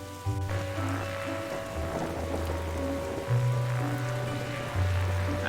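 Steady rain patters on a surface on a dark night in The Darkside Detective, a soft constant hiss running alone beneath low sustained musical tones.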